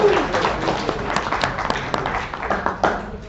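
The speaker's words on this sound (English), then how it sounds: "A big thank you, a big round of applause." Audience applause at a special community center event, a steady wash of clapping with scattered louder claps, fairly close and filling the whole stretch.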